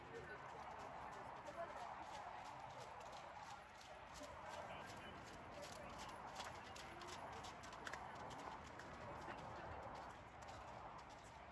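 A horse canters in an outdoor arena, giving a steady, rhythmic drumming of hoofbeats that stays moderately distant, with a faint voice and birds in the background.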